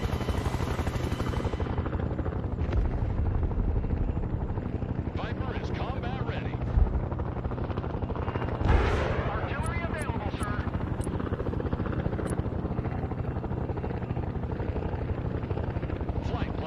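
Heavy transport helicopter, a CH-53E Sea Stallion in the real-time strategy game Broken Arrow, with a steady loud rotor and engine roar throughout, a couple of brief thumps and high whines near the end, and some talk in the background.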